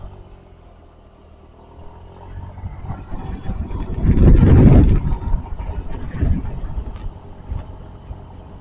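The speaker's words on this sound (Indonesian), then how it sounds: "Anginnya juga cukup kencang gini, karena berada di ketinggian ya." Strong mountain wind buffets the microphone on a winding road through the highlands, a low rumbling roar that builds to a loud peak midway and then eases, with no one speaking.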